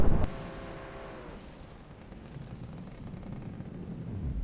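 A particle cannon fires in the naval combat game From the Depths: a sharp burst opens with a brief ringing tone, then a broad rushing, rumbling roar that hangs and slowly swells with no talking over it.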